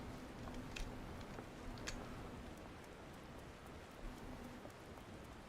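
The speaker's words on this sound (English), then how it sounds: "it's raining in Gridania" Rain falling in Gridania within Final Fantasy XIV, a soft, quiet, continuous patter with a few sharper drip ticks scattered through, heard alone without speech.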